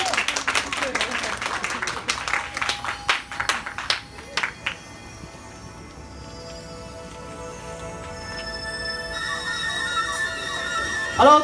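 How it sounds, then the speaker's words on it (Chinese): An audience at a magic show applauds to welcome a magician onstage, with a burst of clapping that fades out into steady room murmur and some tonal sound. "请我们的来宾掌声欢迎"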